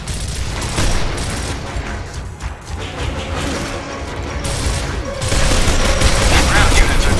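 Heavy gunfire in Gears of War: Ultimate Edition, a loud, sustained barrage of shots and booms that swells near the end, with voices talking over the combat.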